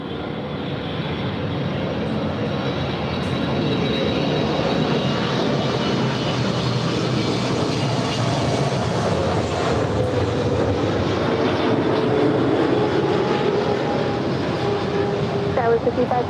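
A JetBlue airliner lands on runway 24 right at LAX behind a heavy 777, a steady loud jet roar running throughout, with tower radio voices talking over it.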